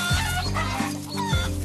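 Hens cluck nearby in a short run of low, throaty clucks with a busy background of farmyard noise.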